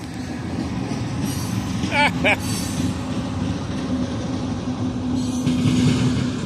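A Canadian National freight train rolls past close by with a continuous heavy rumble of rail cars, a couple of brief metallic wheel squeals and steady clatter throughout.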